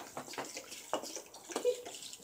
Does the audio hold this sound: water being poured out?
yes